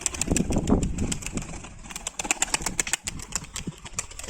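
Pigeons near their new loft, with fluttering wing flaps and soft cooing at close range, mixed with scattered clicks and handling noise.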